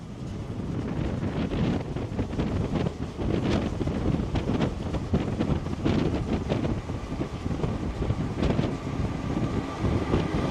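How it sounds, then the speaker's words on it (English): Wind rushes through an air adit in the disused Standedge railway tunnels, a loud, steady roaring gust with buffeting microphone noise, surging and holding for the full length before easing slightly. "the wind just absolutely rushed through and then died down straight away"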